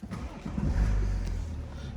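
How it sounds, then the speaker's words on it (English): A BMW 435d xDrive Gran Coupe M Sport diesel starts up with a brief crank and a deep low rumble that swells then settles into a steady idle, heard close from inside the car. "I'll start the car up"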